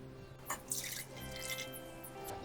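Cold water poured into a vessel of blended raw mango for a drink, a continuous close splashing and trickling with drip-like spatter, alone for a couple of seconds.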